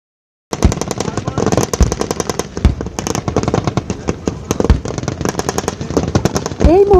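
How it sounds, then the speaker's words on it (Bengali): Artillery, mortar and firebase guns pound enemy positions during a Bangladesh Army exercise, with rapid, dense bursts of loud booms and cracks rattling on continuously after a brief silence. "এই মুহূর্তে আপনারা দেখতে পাচ্ছেন আর্টিলারি, মর্টার এবং ফায়ারবেস থেকে শত্রু অবস্থানের উপর বিপুল হারে গোলাবর্ষণ হচ্ছে"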